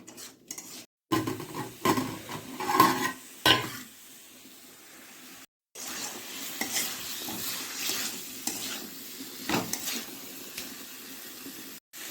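Spices and sugar sautéing in a pan, with intermittent scraping and stirring strokes and a soft sizzle, separated by brief silent gaps; moderately faint and without talk.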